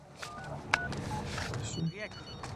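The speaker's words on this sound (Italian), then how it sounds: "È il telefono." A telephone rings inside the video game Call of Duty Modern Warfare. Brief ringing tones cut through a dense mix of game sounds, with a person talking over them throughout.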